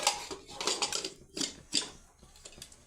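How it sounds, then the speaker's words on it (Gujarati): Metal clanks and scrapes as the lid is fitted onto a pressure cooker in a home kitchen, several short close knocks spread across a few seconds with no talking. "ઢાંક્યું કુકરનું ઢાંકણું."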